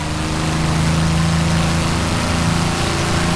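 Spitfire engine in the A2A flight simulator over-revving after the propeller is thrown into fine pitch at about 200 mph, a loud steady droning roar that holds constant throughout.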